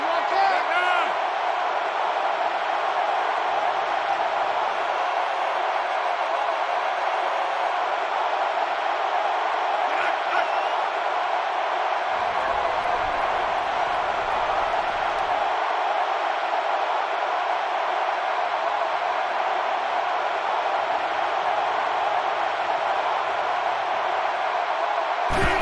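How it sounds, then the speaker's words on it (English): Roaring stadium crowd in the NCAA Football PS3 video game, with Duke playing Alabama. A steady, loud, unbroken wall of cheering runs throughout, with no clear peaks or breaks. "And this crowd is going absolutely crazy."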